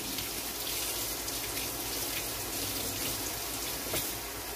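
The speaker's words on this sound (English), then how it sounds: "Well, let me just rinse now, because I grow this indoors." Fresh homegrown basil rinsed under a running kitchen tap, a steady, even rush of water with faint spatter, continuous and alone.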